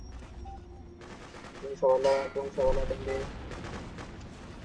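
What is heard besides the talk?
gunfire in the video game Freedom Fighters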